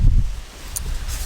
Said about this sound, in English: It's still very windy outside